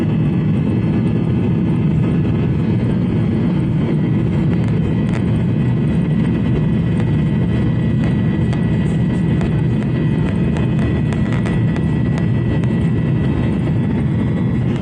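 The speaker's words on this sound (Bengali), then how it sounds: "পাইলট যখন ইঞ্জিনে ফুল পাওয়ার দেয় তখন ইঞ্জিনের শব্দের যে পরিবর্তন হয় তা আমার কাছে খুব এক্সাইটিং লাগে" China Eastern airliner engines spool up to full takeoff power, a loud, steady, broadband roar that holds strong and close throughout with a continuous rumbling low end and no voices.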